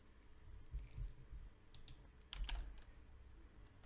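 Quiet, scattered clicks of typing on a computer keyboard, a few short bursts of keystrokes at moderate distance with low room hum beneath and no voices.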